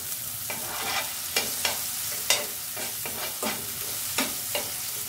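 Miso and tomato paste being stirred in a hot pan, a close, steady sizzle with regular scraping strokes of the spatula every half second or so, with no voices.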